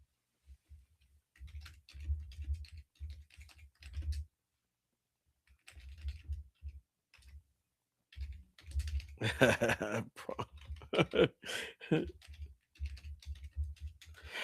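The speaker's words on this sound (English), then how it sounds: "Oh, let me just type in this right here." Computer keyboard typing in rapid, uneven bursts of close clicks with short pauses, and a voice talking over the later stretch of keystrokes.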